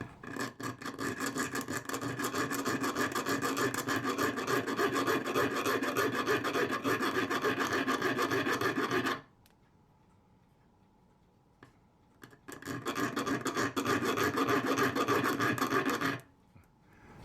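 A coarse file rasps back and forth, filing wood flush on a model ship in steady rapid strokes, stopping for a few seconds, then resuming just as harshly.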